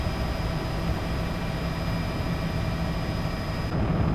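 A helicopter flies during a rhino capture operation in Kenya, its engine and rotor producing a steady, fairly loud broadband drone that holds constant throughout without talk.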